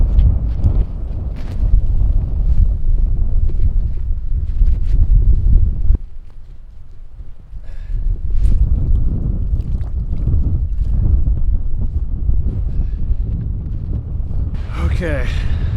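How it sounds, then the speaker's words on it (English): Strong gusting wind buffets the microphone on a frozen lake in the Boundary Waters during solo winter ice fishing, a loud continuous low roar that surges and briefly eases, with a voice talking over it. "It's been really windy."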